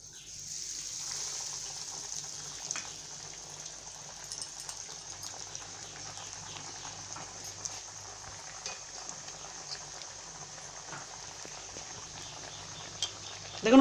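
Poha tikki patties fry in hot oil with a soft, steady sizzle and faint crackle, heard close but quiet throughout.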